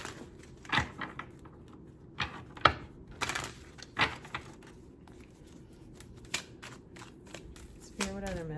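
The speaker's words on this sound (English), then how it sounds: "let's see what comes out of this other deck that I have" Deck of tarot cards being shuffled, several short crisp riffles and flicks spaced irregularly, fairly faint, with a voice briefly audible near the end.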